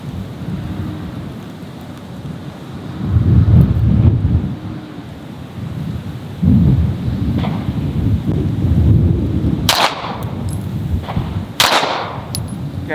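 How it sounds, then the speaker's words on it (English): Strong wind roars at an outdoor pistol shooting range, a heavy low rumble that surges in gusts, with a few sharp distant gunshots cracking through near the end. "It's very windy also."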